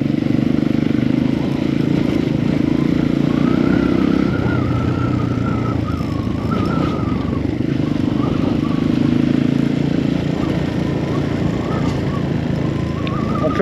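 A motorcycle rides the dirt trail up Mont Mandray near Antsirabe, Madagascar, its engine droning loud and steady throughout, with slight shifts in pitch and rough clatter from the track.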